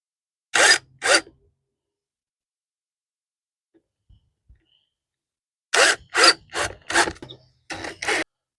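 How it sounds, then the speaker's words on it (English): Short bursts of a power drill whirring as it tightens a hose clamp on a pool pump pipe, two quick pulses, a silent pause, then a run of several rapid bursts, close and loud. "Get your drill, tighten the connection into place."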